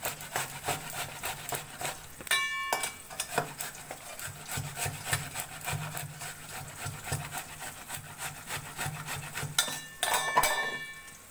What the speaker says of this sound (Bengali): এবার একটা গ্রেটারের সাহায্যে এইভাবে ঘষে নেব।